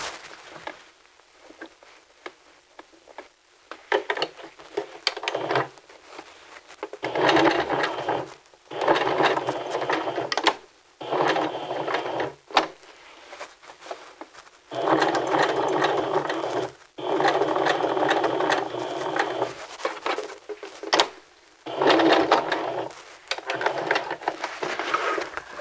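A sewing machine stitches along the edge of a men's vest in a series of loud, sustained runs separated by short quiet pauses.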